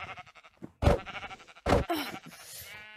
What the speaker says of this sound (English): Gotta hit these sheep.